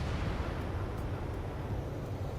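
Anti-aircraft fire and explosions in Ace Combat 7, a dense, continuous low rumble of booming blasts, loud and close with no talk over it.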